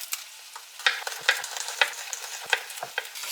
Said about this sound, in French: Dans ma poêle, j'ajoute mes morceaux de courgettes.